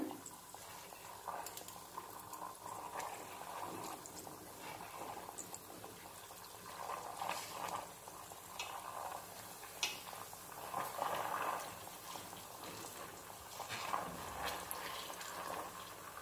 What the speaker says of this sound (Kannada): ಅದ್ರ ಪಾಡಿಗೆ ಅದು ಬಾಯ್ಲ್ ಆಗಬೇಕು